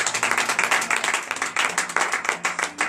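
Congregation at a Beninese morning prayer service clapping in praise, a dense run of many hands throughout with a faint voice underneath.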